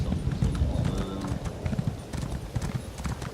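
Horse mount galloping in the video game Elder Scrolls Online, with rapid rhythmic hoof clip-clops running steadily throughout amid game sounds and some voice.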